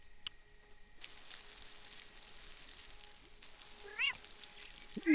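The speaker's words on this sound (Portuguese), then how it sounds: "Gato." A cat in the Moonlight Peaks farming game gives two short meows near the end over faint cricket-like ambience, quiet and close.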